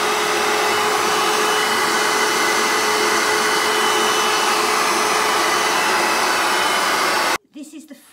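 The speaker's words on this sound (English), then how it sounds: "So I'm just going to release that lever, I'm going to turn it on." A BISSELL ReadyClean 54K25 carpet cleaner runs with a loud, steady motor whine and airy rush that holds for about seven seconds, then cuts off abruptly, leaving a few faint clicks and handling noises.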